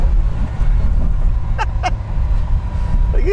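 Low, rumbling V8 from a 1989 Ferrari Mondial T hums steadily from behind the cabin, sounding somewhat distant, with a brief voice sound over it.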